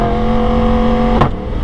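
A Yamaha R1 sport motorcycle engine holding a steady high-pitched, raspy drone, then surging briefly in a sharp rev before settling again, close and loud with no talking.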